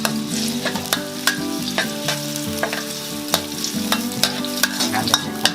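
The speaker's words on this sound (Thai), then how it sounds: "ต้องเจียวกระเทียมให้มันหอมสักหน่อย" Chopped garlic frying in hot oil crackles and sizzles steadily up close, punctuated by repeated sharp metallic clinks and scrapes of a spatula stirring in the pan.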